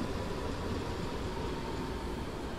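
A BR 422 electric commuter train pulls into a station in Train Sim World 3 on the Ruhr line during a storm, heard as a steady, dense rumble and rolling noise with no talk.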